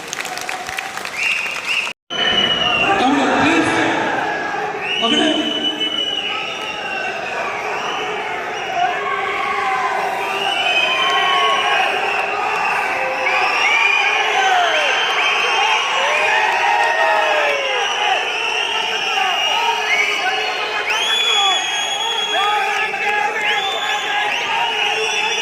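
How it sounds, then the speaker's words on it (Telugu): An audience at a political rally in Mylavaram constituency, Krishna district, breaks into loud, sustained clapping and cheering after a brief pause, with whoops and shouts that stay dense and close throughout. "కొట్టండి తప్పట్లు గట్టిగా"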